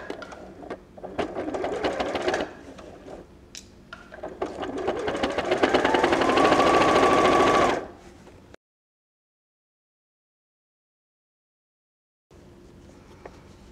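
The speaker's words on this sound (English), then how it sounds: "so you're sewing lining to lining, but you're mirroring that seam that you've just done" A sewing machine runs a seam joining bag lining to lining, whirring in bursts that stop and start, then a long steady run that rises in pitch before cutting out into silence, with a brief quiet resumption near the end.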